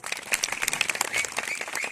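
A crowd at an outdoor folk dance festival in Kuturla applauds for the dancers, with brisk, dense clapping and some crowd noise heard at moderate distance for a couple of seconds.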